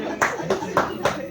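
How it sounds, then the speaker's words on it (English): Audience clapping at a health quiz event, with three short bursts of claps standing out over a steady murmur of speech and crowd noise, fairly close and moderately loud. "A big clap for them"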